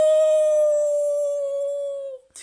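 A wolf howl sound effect in a Three Little Pigs story, one long loud sustained tonal wail that slowly sinks in pitch before cutting off.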